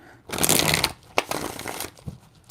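Tarot cards shuffled by hand in a burst of dense riffling, then a second run of softer shuffling with a few sharp card taps, close and fairly loud with no talking.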